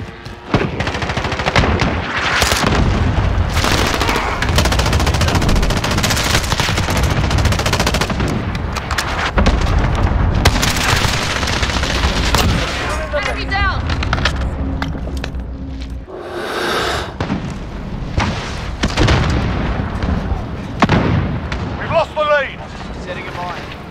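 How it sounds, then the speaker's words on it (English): Cluster strike explosions and rapid gunfire fill a Call of Duty Modern Warfare team deathmatch, with dense near bursts of automatic fire, heavy booming blasts and a sustained roar, plus brief in-game voice callouts. "Enemy cluster strike incoming."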